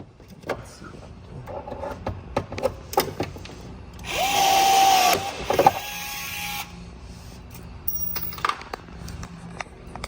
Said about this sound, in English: that's where you tap through into the plastic, and then the rivet gun to follow